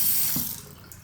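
Water runs from a bathroom sink faucet in a steady hiss that fades slightly as the flow continues, close by with no voices.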